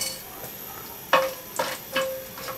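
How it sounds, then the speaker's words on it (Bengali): Whole cinnamon sticks, cardamom pods and cloves fry in hot soybean oil, giving a low steady sizzle broken by three sharp spattering crackles and pops that stand out near the end. "মশলাগুলোকে হালকা একটু ভেজে নিতে হবে যাতে করে এটা থেকে সুন্দর অ্যারোমা বের হয়"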